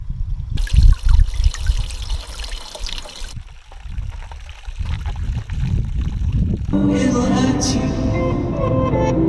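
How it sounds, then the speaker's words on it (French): Water trickling and splashing while a water supply is refilled during a Swiss road trip in a converted van, loud and close with steady running flow. "Petite recharge d'eau."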